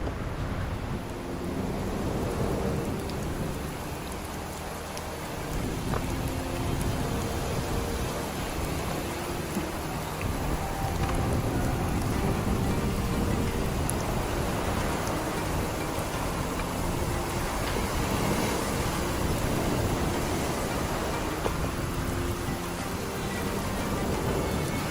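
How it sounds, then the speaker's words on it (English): Rain falls steadily on an island, a dense continuous hiss with scattered drop impacts and a low rumbling undertone like distant thunder, with no voices. "the rain has started again"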